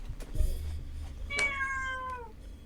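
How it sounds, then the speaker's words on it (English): A cat meows once, close and clear, with a rising-then-falling drawn-out call after a few soft bumps and rustles; no speech is heard. "Oh, hello, cat."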